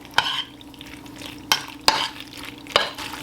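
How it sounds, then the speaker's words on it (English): Macaroni pasta is stirred together with cheese sauce made from cheddar, gruyere and fontina, giving four sharp spoon scrapes and clinks against the pot over a soft sticky squelch. "I'm gonna add my cheese sauce to my pasta"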